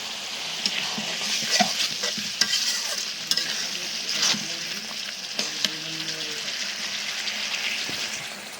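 Tomatoes are stirred into a hot frying pan, giving a steady close sizzle with scraping stir sounds and small clatters throughout, and no talk over it.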